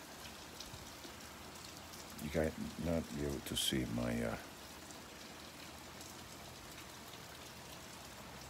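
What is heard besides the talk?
heavy rain pouring outside a house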